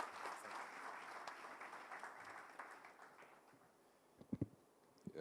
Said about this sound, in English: Come on, a proper round of applause.